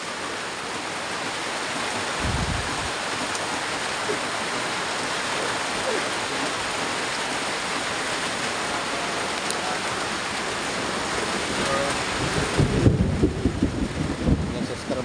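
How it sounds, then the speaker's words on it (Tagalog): Heavy rain falls in a constant dense wash, loud and close, with a few low rumbling swells near the start and again toward the end. "Sobrang lakas na po ng ulan"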